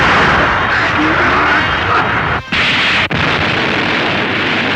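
Explosion effect from the 1973 Kamen Rider V3 TV series: a loud, sustained roaring blast fills the whole stretch, broken only by two brief dropouts, with no talk over it.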